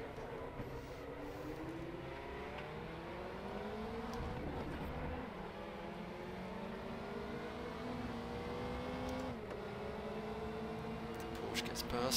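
Race car engines drone loudly throughout while a Porsche passes during a Group C race at Hockenheim in the RaceRoom video game, with rising and falling engine tones and faint talk underneath.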